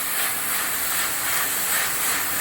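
Onions sautéing in a hot pan for an ivy gourd curry, giving a steady bright hiss and sizzle that carries evenly throughout at moderate loudness with no voice over it.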